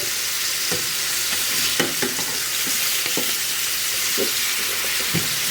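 Small hamburger patties browning in oil in a pan, a steady bright sizzle with repeated short scrapes and taps from turning them, close and even throughout.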